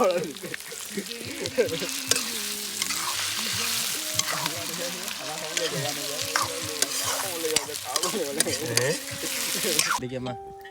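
Chicken sizzles and fries in a pan while being stirred, with steady loud crackling and scraping throughout and voices talking over it.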